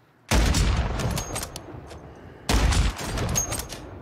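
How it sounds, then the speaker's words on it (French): Two loud, booming sniper shots in the video game Warzone 3 crack out about two seconds apart, each followed by a rolling echo tail. "ça snipe de la hauteur"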